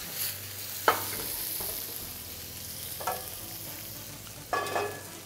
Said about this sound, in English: So I need to fry some mushrooms still.